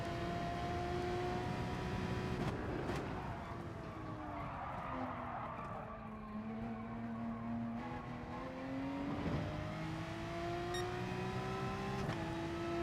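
A race car in GT Sport laps with a loud, sustained engine drone whose pitch dips under braking and climbs again through the gears, tires squealing at corners, near and continuous.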